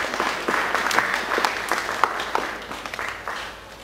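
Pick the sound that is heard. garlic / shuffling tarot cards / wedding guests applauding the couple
wedding guests applauding the couple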